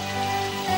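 Heavy rain falling at a lonely spot, a dense steady hiss of downpour with no voices, brief and continuous throughout.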